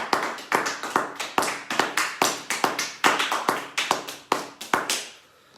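A church congregation breaks into rhythmic applause in acclamation of the Lord, with a steady run of sharp, close claps repeating in even pulses before fading out.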